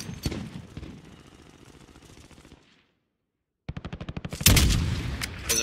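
Enemy gunfire in a Call of Duty Warzone match, coming from tents, with loud rapid bursts of shots, a short silent gap, then a renewed burst of dense, sharp firing.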